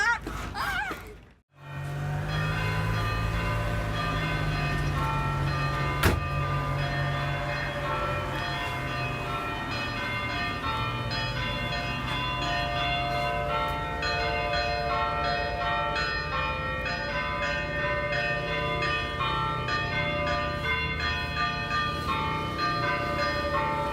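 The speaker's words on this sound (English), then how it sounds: "Every morning we wake up to these beautiful bells from the churches." Bells from two nearby churches on Aegina ring out in the morning, a steady layered peal of overlapping tones that continues for the full length with little pause, loud and close, after a brief dip at the start.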